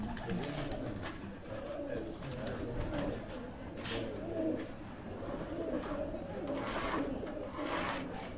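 A Rampuri pigeon being shown, with soft cooing and rustling over a steady background hum that stays even throughout, near and moderate in level.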